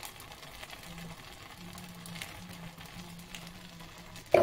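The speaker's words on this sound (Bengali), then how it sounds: "এইবার কিন্তু হিটটা মিডিয়ামে রেখে আমি 2 মিনিট এইভাবে কন্টিনিউ নাড়াচাড়া করে যাব।" Hajmi mixture cooking with ghee in a pan over medium heat gives a soft continuous sizzle, with faint scraping from steady stirring and a sharper knock right at the end.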